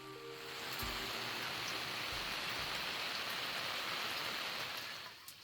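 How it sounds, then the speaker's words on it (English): Steady morning rain falling outdoors during an overland trip in northern Maine, a continuous dense hiss of drops on surfaces, even and moderately loud throughout with no voices. "this morning's rain was definitely not fun"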